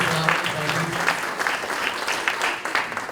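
Audience at a junior fire academy graduation ceremony applauds a sponsor, steady clapping filling the room for a few seconds at moderate loudness.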